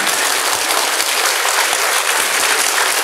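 A lecture audience breaks into thick, continuous applause, loud and even from start to finish over a few seconds, with no speech on top.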